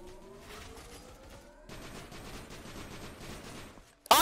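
Gunfire in the Roblox game Isle comes as a dense, continuous fusillade of rapid shots, with a sharp, louder burst right at the end.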